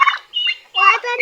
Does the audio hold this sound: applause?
no